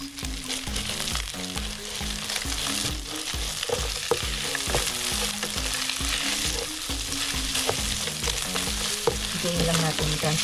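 Garlic and onion sizzling in olive oil in a pan, a loud, close, constant frying hiss with regular scraping and stirring knocks from a utensil throughout.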